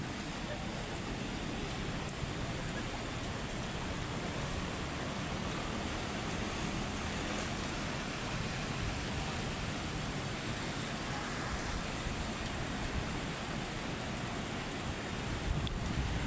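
Strong typhoon wind blowing in Manila, a continuous loud roar and buffeting across the microphone with no letup.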